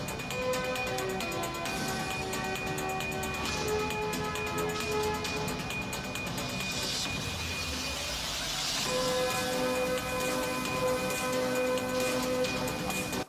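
Steady rain falls on a flooded Mumbai street during the season's first rains, making a dense, even hiss that stays at the same level throughout with no voices.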